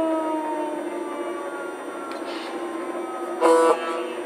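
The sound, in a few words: model train siren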